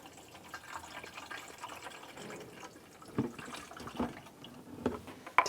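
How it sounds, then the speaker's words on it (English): 50-50 coolant pours into the reservoir of a 2011-2018 Ram 1500, a faint, quiet trickle of liquid with a few louder glugs and drips toward the end. "We're going to use a 50-50 mix of the appropriate coolant"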